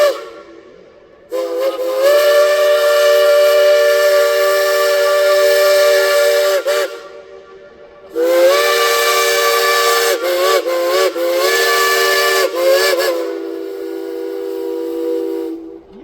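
Steam locomotive whistles blast at a loud parade of steam at Cass: long sustained chime tones in two main bursts with a short pause between, several quick breaks in the second, and hissing steam around them.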